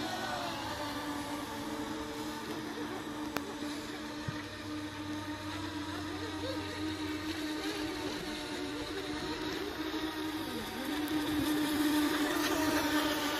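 Steady high-pitched whine of RC sport boats racing on water, several small motors droning together at a distance over about thirteen seconds, rising slightly toward the end.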